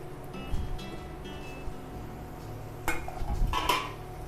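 Fish being stirred into a cutlet mixture in a pan, with a few spoon scrapes and clinks against the metal, two brief louder bursts near the end, and a steady low hum behind it.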